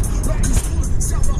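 Car engine pulling hard through a bend, a steady broadband drone with low rumble and rising strain, close and continuous with faint voices underneath.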